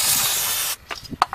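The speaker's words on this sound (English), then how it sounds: "I have brake cleaner and the brush" A steady, loud hiss of aerosol brake cleaner spray on a car's rear brakes lasts about three quarters of a second, then cuts off, followed by a few soft clicks and taps.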